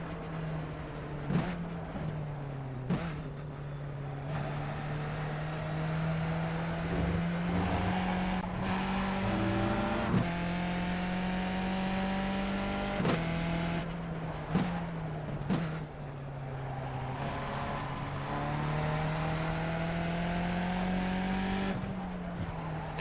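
A Barber race car with a sequential gearbox, driven in the iRacing simulator, drones loudly and steadily, its engine pitch climbing and then dropping sharply at each of several quick upshifts, with occasional tire noise.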